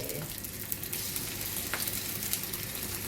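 Egg is poured onto a Korean pajeon pancake frying in oil, heard as a dense, continuous loud sizzle with crackling spikes, close by and without speech.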